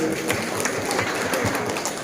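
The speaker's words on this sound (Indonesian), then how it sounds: "Tepuk tangan dulu untuk pesantren ini." A crowd claps together in sustained, dense applause at a religious lecture held at the Ihya Ulumuddin pesantren in Kampung Beru, Bantaeng, steady and fairly loud throughout with no clear break.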